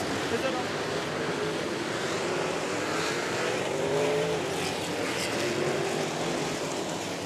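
Race cars at the World Figure 8 Championship track pack three and four wide through a corner, engines roaring and rising in pitch as they pass, with a commentator talking over the racket.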